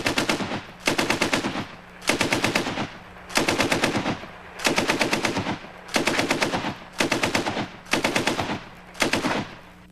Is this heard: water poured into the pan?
no